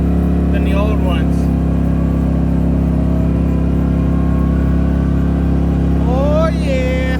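A CFMOTO ZForce Z950 UTV with a new rear differential drives along, its engine and drivetrain drone loud and steady throughout, with faint whining tones rising near the start and end.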